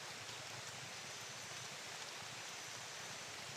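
Steady rain, a dense even hiss of falling drops with no voices, constant and fairly close throughout.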